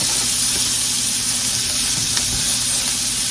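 A big pan of food sizzles steadily on a stovetop burner while a utensil stirs and scrapes the browned bits off the bottom, close and continuous with no talking.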